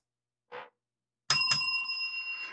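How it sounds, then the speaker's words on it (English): A small handheld bell, like a bicycle or desk bell, rings twice in quick succession after a brief soft thump, with bright metallic tones that linger and slowly fade, close and clear. "Well, that was a double bell."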